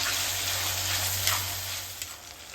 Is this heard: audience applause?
no